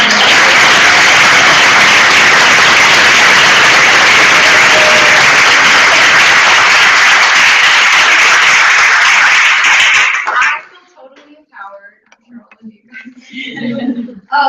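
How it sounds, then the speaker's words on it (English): Loud, dense applause from the audience at a women's empowerment night at a university career center, sustained for about ten seconds before cutting off sharply, followed by faint scattered sounds and murmuring. "I just feel like they deserve the biggest round of applause."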